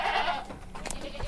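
A goat bleats in a pen, one short, wavering cry heard close by against a low, steady background.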